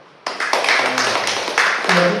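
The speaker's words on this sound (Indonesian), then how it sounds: "Tepuk tangan." A church congregation breaks into sustained hand clapping that starts abruptly and stays dense and loud, with voices mixed in throughout.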